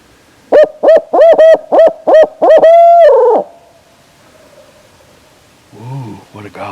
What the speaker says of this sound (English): Whoa, what a gobble.